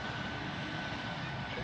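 A passenger jet departing on runway 28 at Zurich airport, its engines heard as a steady, far-off broadband roar, with a faint voice over it.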